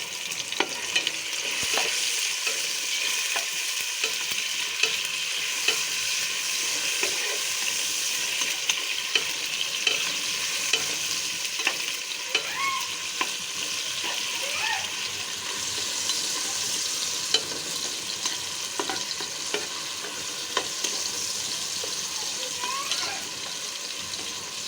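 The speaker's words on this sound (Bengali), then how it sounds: "টমেটো কুচি দিয়ে দিলাম। টমেটোটা একটু ভেজে নেব।" Chopped tomato sizzles and fries steadily in a hot pan, a continuous close crackle with small pops throughout and no talking.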